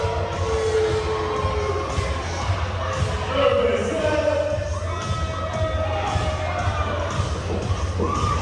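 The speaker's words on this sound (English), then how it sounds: "cheer for your boys" Loud, continuous crowd cheering and shouting at a school Green or Gold event in a gym, with whoops and a steady low rumble sustained throughout, voices blending into the din.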